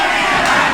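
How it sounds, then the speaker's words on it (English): Wrestling crowd roaring and cheering steadily, a dense, loud wall of voices with no break across the moment. "This crowd is solidly behind Lestat."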